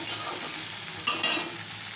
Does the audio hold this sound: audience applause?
no